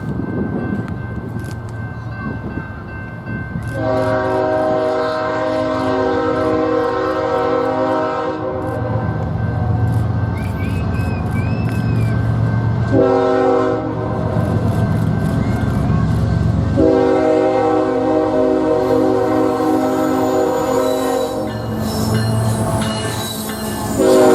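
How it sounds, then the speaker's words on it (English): A Norfolk Southern intermodal freight train, NS 233 with stacked containers on the ex-Nickel Plate main line in Hammond, Indiana, rumbles past loudly while its multi-tone horn sounds in several long blasts, with wheel squeal and clatter throughout. "Here we see NS 8098 leading NS 233."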